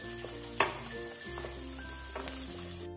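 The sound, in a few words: frying green chillies, garlic and peanuts in a pan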